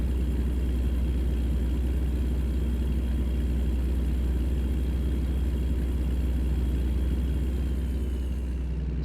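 A truck engine drones steadily while cruising a highway in American Truck Simulator, a loud, even low rumble with a constant hum and no pauses throughout.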